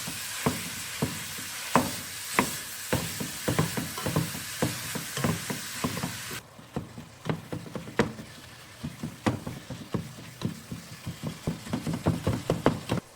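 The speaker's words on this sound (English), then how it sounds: "Break it up and cook until it's fully browned." Ground beef browning in a pot for one-pot chili, broken up with repeated spatula strokes that knock and scrape in a steady rhythm over a soft sizzle, close and fairly quiet.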